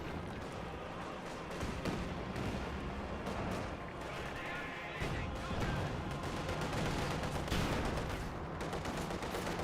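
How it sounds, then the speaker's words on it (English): A Katyusha rocket artillery barrage in the Company of Heroes 2 video game rumbles through a dense run of rapid launches and blasts, continuous and loud, with a voice talking over the battle noise. "Katusha Barrage running on in."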